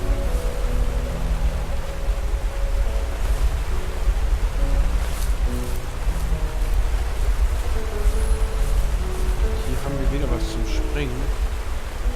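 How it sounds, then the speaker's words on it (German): The waterfall in the video game The First Tree gives a constant broadband rushing roar throughout, with someone speaking over it and soft game music tones in the background. "Und der Wasserfall zieht uns auch noch rein."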